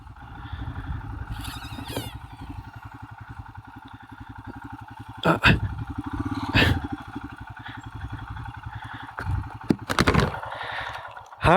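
A motorcycle idles nearby on a trail on Prince Edward Island with a steady, pulsing engine rumble, broken by a few louder clatters and revs.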